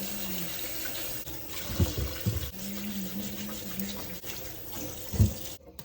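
Sweet potatoes being washed under a running kitchen tap, a steady hiss of water with intermittent splashes and thuds as the potatoes are rubbed and turned, moderately quiet and without talk.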